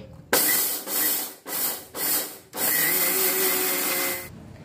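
A kitchen mixer grinder pulverises dry rice into flour for anarse, loud whirring bursts with brief pauses between, then one sustained run before stopping.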